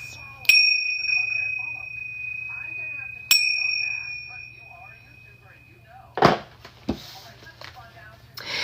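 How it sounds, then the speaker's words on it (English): Bells rung twice during a tarot reading, each a bright metallic strike that rings out with a long sustained tone, followed later by a couple of sharp clattering knocks. "Let's ring the bells."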